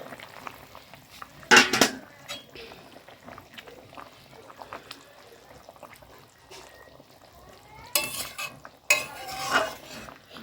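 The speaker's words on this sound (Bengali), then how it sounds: "আর এই যে বেগুন ভাজছে, আর মাছের তেলটা একটু বেগুন দিয়ে ভেজে দিলাম" Brinjal slices frying in leftover fish oil in a kitchen pan, with a soft steady sizzle and a few loud bursts of stirring and scraping.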